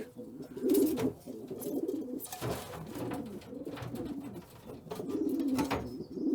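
Several racing homing pigeons cooing in a loft in soft, repeated throaty phrases close by, with rustling and faint background activity.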